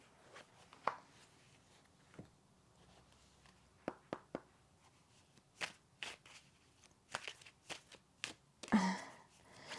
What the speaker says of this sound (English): as part of me shuffling this pile